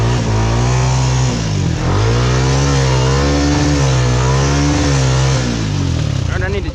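Off-road recon vehicle stuck in soft creek-bottom mud, its engine revving hard and near with rising and falling pitch, loud throughout, with voices talking over it.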